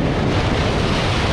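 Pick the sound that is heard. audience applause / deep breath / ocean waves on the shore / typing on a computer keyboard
ocean waves on the shore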